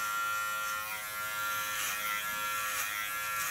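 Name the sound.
small Kiona electric hair clipper trimming fringe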